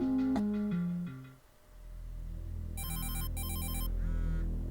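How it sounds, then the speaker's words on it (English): A telephone rings in a horror video game set in a madman's lab, with repeated bright electronic trills sounding alone over a low droning ambience after a short descending musical phrase. "The sound of a ringing phone, which shouldn't be here."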